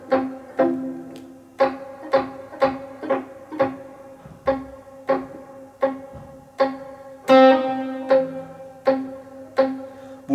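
Classical guitar playing a Bach Invention No. 4 passage with pull-offs producing small clicks, a steady run of plucked notes in a moderately quick rhythm, close and clear, with no talking.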